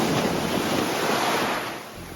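Ocean waves wash steadily onto a tropical beach on Koh Larn Island, Thailand, a loud, continuous surf roar mixed with wind noise that eases slightly toward the end.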